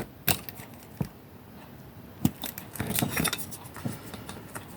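Scissors make a few sharp, close snips while trimming a small margin of paper or fabric for a handmade craft pouch, separated by quiet handling rustles and light scratches.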